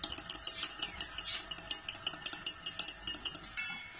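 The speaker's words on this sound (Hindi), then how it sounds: "अच्छी तरह इसको मिक्स कर लेंगे।" A spoon stirs chocolate mug cake batter in a mug, making quick, rhythmic clinks and scrapes against the sides. The sound is close and steady, with no talking.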